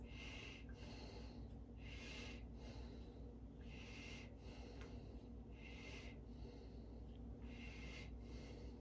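A patient's quick, rhythmic breaths during a head-to-toe medical assessment, about one per second, come as soft airy bursts close up, with no talking.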